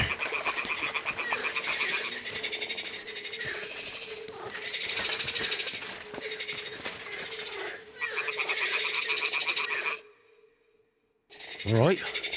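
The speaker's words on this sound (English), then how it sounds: "The toads are croaking here." Toads croak in Kingdom Come: Deliverance II, a dense, rhythmic chorus of rattling croaks from several animals close by. It pauses briefly near the end before resuming.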